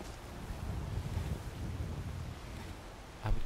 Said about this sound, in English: Beautiful, beautiful scenery here with the river and stuff. Nice waterfall.